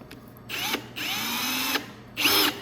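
A power drill whirs in three bursts while pre-drilling bench legs for 2.5-inch construction screws, a short one, then a long steady run, then another short burst, close and fairly loud.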